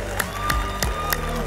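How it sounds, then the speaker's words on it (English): An audience welcomes a woman to the stage at a women's entrepreneurship event with steady applause and cheering, a dense wash of clapping with a few louder bursts and faint tonal sounds underneath. "Give her a big round of applause."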